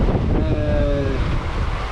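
Strong wind gusts roar across the microphone aboard a sailboat running under code 0 and mainsail at sea, a steady loud blustery rush with water and hull noise beneath and a faint tonal whistle of rigging.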